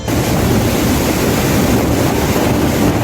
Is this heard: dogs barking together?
no